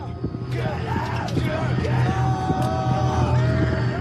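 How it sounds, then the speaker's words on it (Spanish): Soldiers shout a battle cry during bayonet training, a sustained mass of yelling voices with a steady low rumble beneath, moderately loud and somewhat distant, blending into a continuous crowd roar. "Hasta el día de hoy, el grito de guerra forma parte del entrenamiento con la bayoneta."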